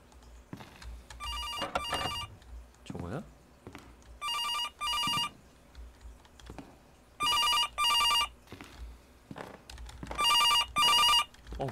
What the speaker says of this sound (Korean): 전화 소리도 무섭네